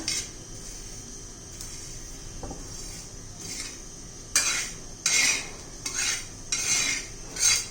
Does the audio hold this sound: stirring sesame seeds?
yes